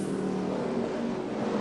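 Race cars engines droning and building in a steady, dense roar on the restart at Nashville Superspeedway, a continuous mid-range engine wash with no breaks, heard from a distance.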